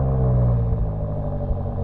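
A BMW M8 engine idles with a deep, steady rumble just after firing up, loud and close for under two seconds, with a low throbbing tone and no voices.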